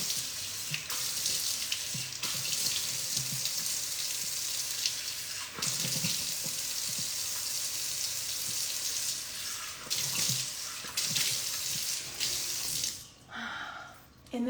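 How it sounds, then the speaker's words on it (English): Tap water runs steadily into a bathroom sink, with splashing bursts as hands scoop water to the face, fairly close and continuous before the flow briefly cuts near the end. "You want to run your water and then splash until your face gets soft."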